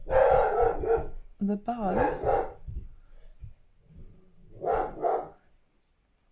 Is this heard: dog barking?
yes